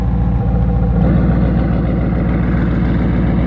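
With its exhaust valves open, the twin-turbo Mustang GT idles in a loud, deep and constant rumble, an even throbbing drone close to the microphone.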